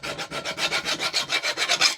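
A hand file rasps back and forth on a crossbow bolt shaft, shaping it so the head fits, in quick even strokes, close and steady, with no talk.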